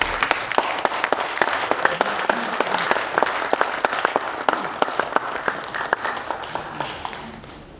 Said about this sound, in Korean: 나오실 때 우리 박수로 환영하시겠습니다